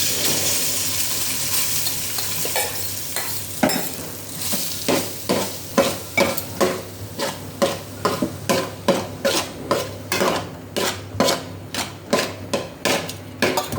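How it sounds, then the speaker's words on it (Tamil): Cooked rice for pepper rice is stirred in a pan with a spatula, making rhythmic scraping strokes that start slowly and then repeat faster and close up, with no voice. "அடுத்து கொஞ்சம் ரைஸ் கொட்டிக்கலாம்."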